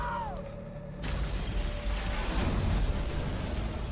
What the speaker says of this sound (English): Slow-mo explosion,